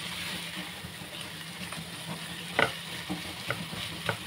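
Ground pork omelette (tortang giniling) frying in a pan while being flipped, a steady close sizzle with a few sharp clatters and scrapes of the utensil against the pan.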